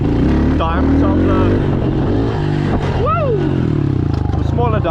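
A Honda CRF110 dirt bike revs up and down while practicing wheelies, its small engine buzzing steadily with sharp rising and falling pitch sweeps, close and loud, as someone talks over it.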